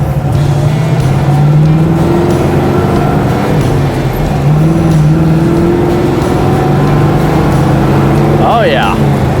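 A 1958 Chevrolet Corvette with a fuel-injected 283 cubic-inch V8 drones steadily while driving, its engine note rising and falling smoothly under continuous road and wind noise, loud and close.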